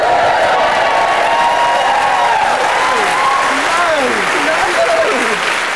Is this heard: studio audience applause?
yes